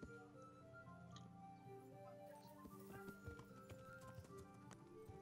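Horse hooves clip-clop in Kingdom Come: Deliverance, a steady run of hoof taps over a dense bed of game music and ambience, with faint background speech.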